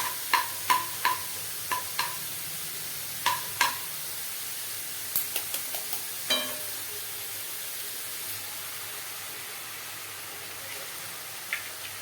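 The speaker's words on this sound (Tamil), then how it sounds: "இந்த ஸ்டேஜில் வந்து இந்த காய்கறியெல்லாம் ஒதுக்கி விட்டுட்டு முட்டை சேர்த்துக்கலாம்" Vegetables and eggs for chicken fried rice frying in a pan, a soft steady sizzle under repeated sharp spatula clinks and scrapes against the pan in the first seven seconds, then quieter sizzling.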